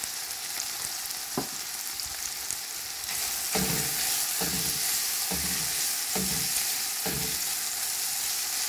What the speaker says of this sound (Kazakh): Енді жақсылап қуырып алдық міне